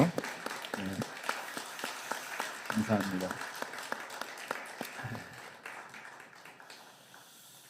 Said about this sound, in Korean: 우리 그 주님께 우리 큰 박수로 우리 영광을 돌리며